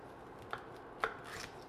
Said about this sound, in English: What you're doing is cutting off the root, cutting off the top.